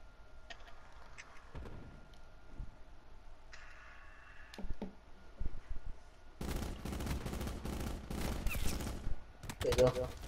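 Gunfire in the video game Call of Duty Black Ops 4: after a few scattered shots and clicks, a long dense stretch of rapid automatic fire rattles loudly in sustained bursts near the end.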